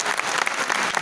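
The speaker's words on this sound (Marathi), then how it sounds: "एकदा जोरदार टाळ्या" Audience in the Suresh Bhatt Auditorium bursts into dense, steady applause, many hands clapping together at close range for about a second with no voices over it.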